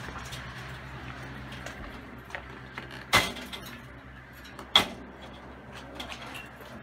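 A door opens to let a squirrel out of a house, two sharp knocks or clunks standing out against a faint background of rustling and small taps, moderately close with no talking.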